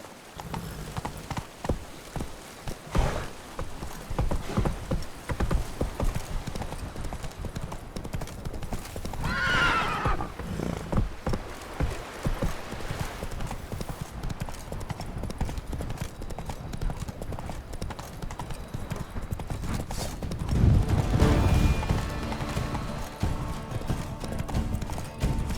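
Horse hooves clip-clop steadily in The Witcher III: Wild Hunt, with a loud whinny partway through, over game ambience and faint talk.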